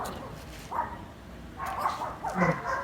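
Two freshly bathed dogs give a few short yips and whimpering barks at moderate distance over steady background noise.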